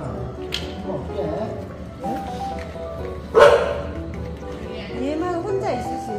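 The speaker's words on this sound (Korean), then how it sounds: "호텔에 있는 강아지들" Dogs at a dog hotel give short, scattered barks and yips, mixed with whimpers, under nearby people talking.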